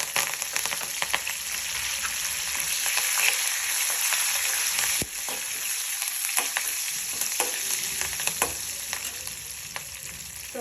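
Curry leaves and mustard seeds crackling in hot oil while tempering for tomato pickle, a steady close sizzle with frequent sharp pops and stirring taps, no voices.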